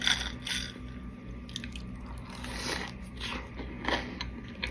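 Crunchy bites into a cinnamon crunch Crumbl cookie topped with cereal, several close crisp crunches spread across the moment with chewing between them, no talking.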